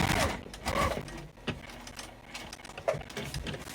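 A sewing machine stitches a jelly-roll tote bag in short, uneven bursts, with brief pauses and small mechanical clicks between runs, heard up close with no talking.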